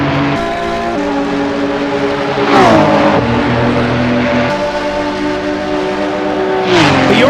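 Race car engines scream at high revs in a Le Mans 1985 sim-racing event, with loud sustained tones that drop through gear shifts and pass close by, plus brief tire squeal, and no talking.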